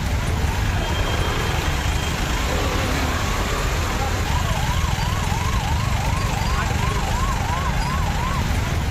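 An ambulance stuck in heavy rain-hit traffic on Poonamallee High Road in Chennai wails with a rising-falling siren that grows clear midway, over a loud constant wash of traffic and rain noise.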